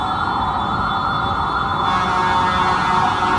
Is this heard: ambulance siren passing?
yes